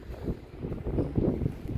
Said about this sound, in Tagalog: Oh, malakas ang hangin.